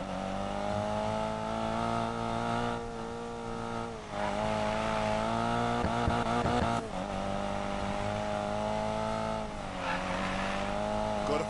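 In a racing video game, a car drifts with continuous loud tire squeal and revving engine, pitch dipping and climbing through several slides and shifts.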